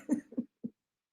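Three short, hoarse coughs from a woman host in a quick burst, close and fairly quiet, then silence.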